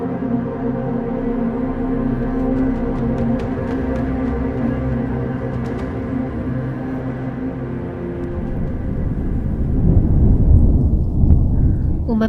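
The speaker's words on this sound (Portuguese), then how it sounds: "Relâmpagos cortavam o céu e um vento frio fazia os pingos de água serem arremessados contra as vidraças das janelas" Audio drama storm of heavy rain and cold wind lashing window panes, with lightning over a small roadside village: a steady dense rain roar under a low rumble that swells louder near the end.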